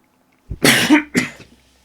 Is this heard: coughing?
yes